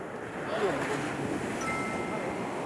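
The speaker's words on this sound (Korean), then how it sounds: "파도가 깊게 뭐 밀려오네." Ocean waves roll in at a surf beach in a steady, broad wash with wind noise, while people exclaim and talk over it.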